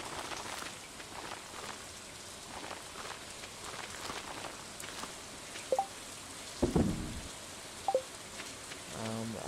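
Rain falls steadily in the farming game Stardew Valley, a soft continuous patter with a few louder drips and short game chimes near the end.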